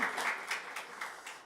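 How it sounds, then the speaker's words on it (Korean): Brief burst of applause from a church congregation during a Sunday worship service, soft, quick clapping in uneven pulses, heard fairly faintly. "우리 모두 하나님 앞에 영광의 박수 올려드리겠습니다"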